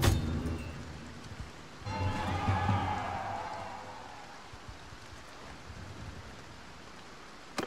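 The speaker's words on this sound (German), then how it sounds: "es regnet gerade, das heißt, es macht keinen Sinn, jetzt anzugreifen" Rain falls in the medieval strategy game Mount & Blade 2 Bannerlord as a steady broadband hiss, swelling briefly before settling into a softer, even patter.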